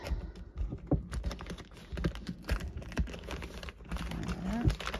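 Small scissors snipping and tapping at a taped cardboard parcel during an unboxing, with close, irregular clicks and crinkles in a quiet room.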